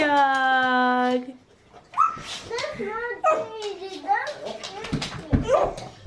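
A farm dog during wheat harvest gives a long, high, wavering whimper at the start, then a voice talks over faint further yips.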